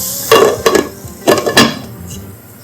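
A lid is set onto a pan of frying onions while making egg keema, giving a few sharp metallic clatters and clinks close by, with a faint sizzle beneath and no talking.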